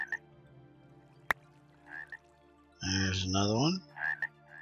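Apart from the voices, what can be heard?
nighttime ambient frog croaking in TerraFirmaCraft video game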